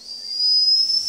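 A survival kit whistle mounted on a Kubotan gives one loud, steady, shrill blast that holds for about a second, close by and alone.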